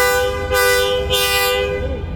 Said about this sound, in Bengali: হর্নটা তো সেরকম, কানে লেগেও লাগে না